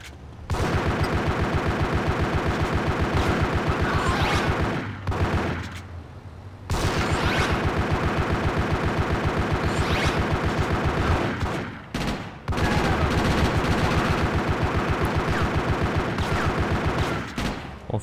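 Twin pistols in GTA Chinatown Wars fire steady, rapid in-game shots in long sustained bursts, briefly dropping out twice before the loud gunfire resumes.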